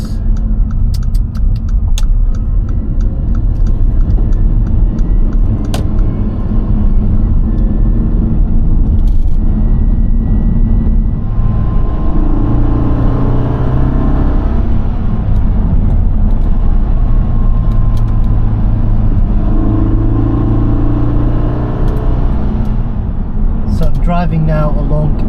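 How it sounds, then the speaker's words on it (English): A car drives along Loch Laggan in the Scottish Highlands, giving a loud, steady interior road rumble and engine drone throughout, while someone talks over it. "Driving now along Loch Laggan."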